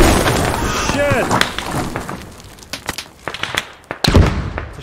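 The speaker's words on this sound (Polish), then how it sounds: "Coś wybuchło. Albo RPG, albo granat." A string of sharp bangs and crackles in the video game Squad, with a louder RPG or grenade blast near the end and indistinct voices underneath.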